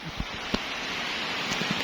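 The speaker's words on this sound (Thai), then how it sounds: "ฝนตกพอรำคาญ" Rain falls steadily around a new Kubota tractor being worked on outdoors, a constant soft hiss with a few sharper drops or taps standing out.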